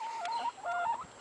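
Backyard hens cluck near the microphone, letting out two short bursts of calls with a brief gap between them. No one speaks.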